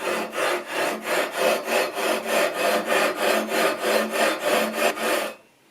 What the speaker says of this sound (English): So when filing a perfectly radiused fingerboard, rather than a compound radius